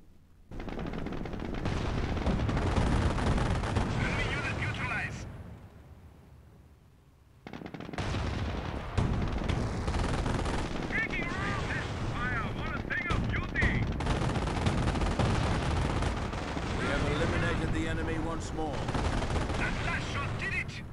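Machine-gun bursts and rifle fire from a World War II battle in the video game Company of Heroes, with sustained rattling gunfire through most of the stretch, one brief lull, and voices talking underneath.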